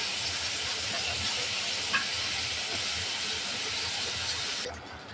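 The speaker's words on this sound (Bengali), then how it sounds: "মাছটা এক পাশ ভাজা হয়ে গেছে, উল্টিয়ে নেব।" Prawns frying in hot oil, a steady loud hiss and sizzle throughout with a faint clatter as they are flipped, dropping away abruptly at the very end.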